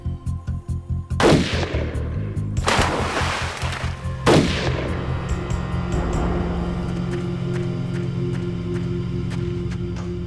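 Three loud rifle gunshots ring out about 1.5 seconds apart, each a sharp broadband crack with a long echoing tail, over a steady rhythmic engine-like rumble that continues throughout.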